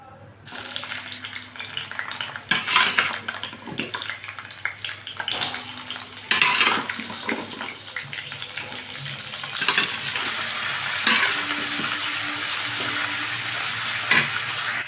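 Kakrol vegetables sizzle and fry steadily in a hot pan, with repeated scraping and clinking stirs from a spatula over a continuous loud crackle.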